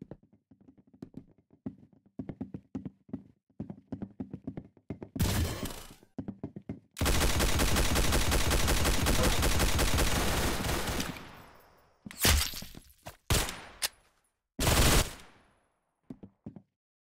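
Video game gunfire plays in several bursts: rapid single shots at first, then a long sustained automatic volley, followed by a few shorter bursts with quiet gaps between.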